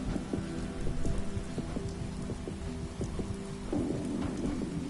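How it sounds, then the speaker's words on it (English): Steady heavy rain pours down without pause in a heavily modded PS4 video game, a dense wash of noise with faint low rumbling underneath. "Got quite the downpour."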